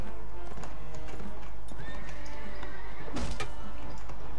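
Horse hooves clip-clopping and a horse neighing in the video game Mount and Blade Warband, repeated hoofbeats up close with a rising whinny midway and a sharp thud near the end.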